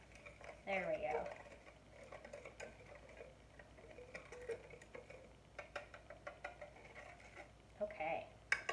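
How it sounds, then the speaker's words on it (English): A whisk clicks and scrapes against a bowl while stirring a homemade kinetic sand mixture, with a quick burst of clinking at the start and again near the end and quieter scraping between, close and fairly soft. "So I'm going to whisk this together and see if it helps it combine a little bit."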